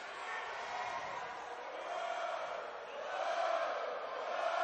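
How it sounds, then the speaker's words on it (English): A basketball crowd at a Shasta vs. Enterprise boys' playoff final chants steadily in a gym, a continuous, distant-sounding roar of voices that swells slightly toward the end. "Nice concentration because the Enterprise crowd is really chanting it up over there."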